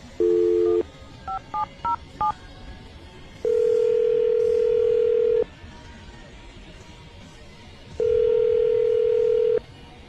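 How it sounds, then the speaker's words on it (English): A telephone call being placed: a short burst of dial tone, a quick run of keypad tones, then two long ringback tones separated by a pause, heard over a faint background hiss. "we're going to call him right now, see if we can get him on the phone"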